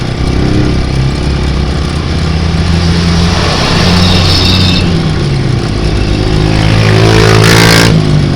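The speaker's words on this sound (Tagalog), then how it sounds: "Ayun o, may mga motor o." Motorcycle engines rumble and rev continuously nearby, loud and steady, with a brief higher whine toward the end.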